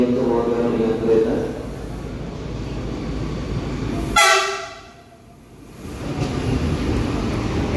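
A KRL CRRC SFC120-V commuter train pulls into a station at rush hour, a steady rumble with one short, loud horn blast midway before the noise dips and builds again.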